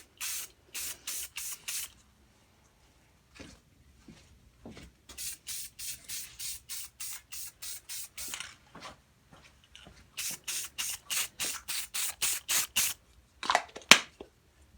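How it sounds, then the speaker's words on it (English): Duplicolor Metalcast spray paint applied from an aerosol can onto an object, short repeated hissing bursts in quick regular runs with brief pauses between passes, close and fairly quiet. "this is just a demonstration for you guys to show how to lay Metalcast over objects"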